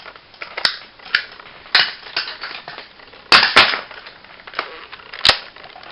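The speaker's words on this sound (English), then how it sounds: "this card shows off the limited sounds of the Deca Driver" A DX Ride Booker toy's Deca Driver card sounds come out as sharp, loud, electronic, bandlimited blasts, about six separate cracking hits in an irregular rhythm.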